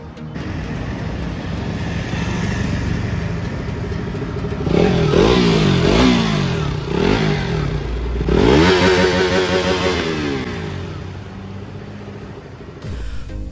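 A KTM RC motorcycle engine idles, then revs sharply in two bursts with rising and falling pitch before settling back to a steady idle.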